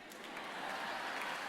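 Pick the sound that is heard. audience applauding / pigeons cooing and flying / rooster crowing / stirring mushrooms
audience applauding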